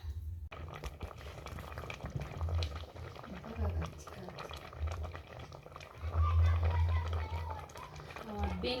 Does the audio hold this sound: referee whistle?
no